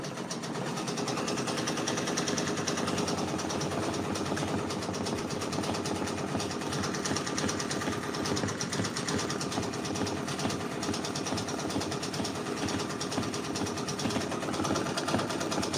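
An embroidery sewing machine stitches a cherries fan art patch, giving off a continuous fast mechanical buzzing and rattling that stays steady and fairly loud throughout.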